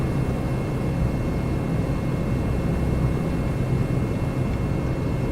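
Steady engine drone of an A2A Comanche 250 light propeller plane in Microsoft Flight Simulator 2024, a loud, unbroken broadband roar with a faint high whine and no talking.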